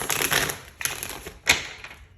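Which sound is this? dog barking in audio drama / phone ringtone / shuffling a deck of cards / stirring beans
shuffling a deck of cards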